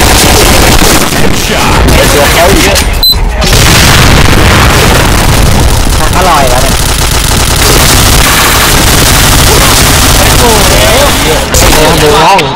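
Dense, continuous gunfire with machine-gun bursts and booming explosions from the Point Blank first-person shooter, loud throughout with a brief drop near three seconds and voices faintly mixed in.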